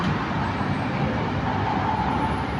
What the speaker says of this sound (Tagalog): Dito laging traffic.